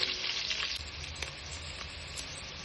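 Onions fry in oil in a pan for paneer biryani, giving a continuous, even sizzle heard up close, with a few faint stirring scrapes and no talking.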